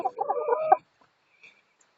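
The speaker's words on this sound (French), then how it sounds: "Et donc pour vous présenter mes poules, ce que j'ai fait à mon poulailler et tout ça." Hens at a backyard chicken coop give one short burst of clucking close by, then near silence with a faint distant cluck.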